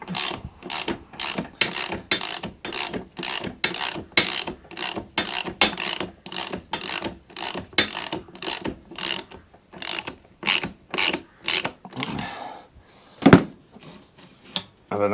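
A ratchet loosens the height adjuster on a vintage Ransomes Ajax Mk4 cylinder mower, about twenty evenly spaced clicking strokes close up, then a few irregular clicks and a metallic knock near the end.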